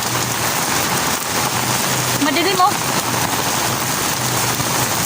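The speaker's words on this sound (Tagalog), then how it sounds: "Siguro ganito din ata o mas malala pa yung ulan." Heavy rain pours down steadily on surfaces nearby in Can-avid, Eastern Samar, a constant dense hiss; a person briefly speaks over it.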